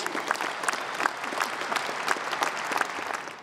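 A graduation crowd applauds didgeridoo players on a university main stage with warm, sustained clapping, full and fairly close, with a few sharper claps standing out over the steady roar.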